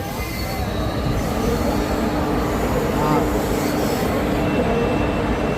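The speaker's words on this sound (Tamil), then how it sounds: "விழுப்புரம் கராக்பூர் எக்ஸ்பிரஸ்." An Indian express train running from Villupuram to Kharagpur rolls steadily on its rails, a loud, continuous rumble and clatter with faint wheel squeal, heard close up from on board without a break.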